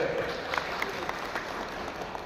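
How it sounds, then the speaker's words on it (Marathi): An audience at a public rally bursts into applause, a short, dense patter of clapping hands heard fairly close, with a voice briefly audible over it at the start. "त्याच्यासाठी एक सर्वांनी टाळ्यांचा वर्षाव करायचा"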